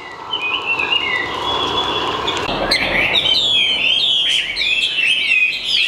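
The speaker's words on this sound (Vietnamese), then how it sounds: "Đây anh em có thể thấy là con chim nó hot luôn anh em này" A Chinese hwamei songbird sings loud and close, first with sustained whistled phrases and then a rapid run of bright varied notes and trills, heard alone with no talk.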